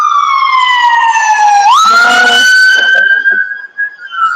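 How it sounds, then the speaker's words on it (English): Emergency vehicle sirens wail loudly on a city street, one tone sweeping down and then jumping into a steady high wail as another siren and traffic rumble overlap. "Sirens."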